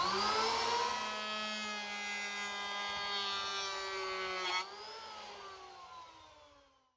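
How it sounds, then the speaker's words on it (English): An electric hand planer runs at a steady, loud whine as it smooths the wooden surface of a hall table, holding a constant pitch before easing down and fading as the motor spins off near the end; no one speaks. "I fine-tuned the dimensions and smoothed the surface with an electric hand planer."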